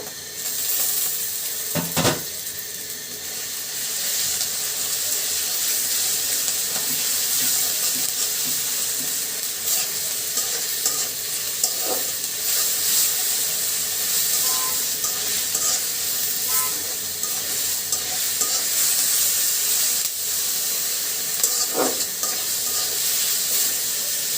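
Onion and ginger-garlic paste fry in a pan with a steady, close sizzle, broken by a few sharp clinks and scrapes of stirring.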